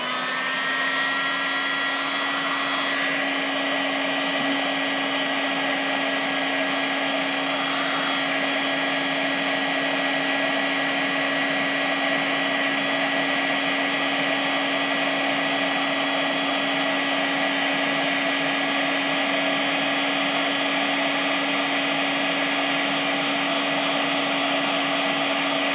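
A heat tool blows a steady, loud whirring hum throughout while heating a heat shrink connector during a heated grip install on a 2018 Indian Scout Bobber motorcycle.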